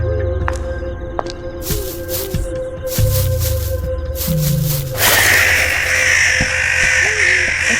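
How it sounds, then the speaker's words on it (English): Crows caw several times in the video game Noel the Mortal Fate, harsh calls repeating over a steady ambient background, with a louder hissing wash taking over near the end. "Crows? Feels like a bad omen."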